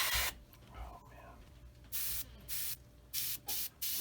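An airbrush sprays paint onto the canopy of a Tamiya 1/48 F4F-4 model kit in short, close hissing bursts of about half a second each, separated by quiet gaps, with a brief soft sound early on.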